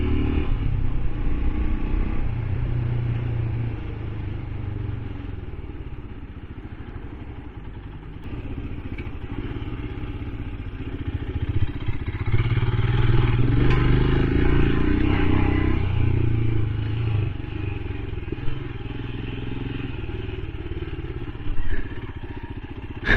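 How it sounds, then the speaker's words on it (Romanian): A Royal Enfield Himalayan motorcycle pulls in second gear, its engine a steady close rumble that swells as the throttle opens midway, with wind and road noise throughout and no talk. "Stau acum efectiv în a doua și accelerez așa ușor. Și pot, când am nevoie, doar am băgat mâna în gaz și uitați cum accelerează."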